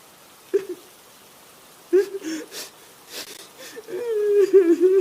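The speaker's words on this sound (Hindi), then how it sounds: "दूर से लड़की के रोने की आवाज।" A girl's faint, wavering cries and whimpers come in short bursts at a distance on a deserted road on a rainy night, with soft rain patter in the background.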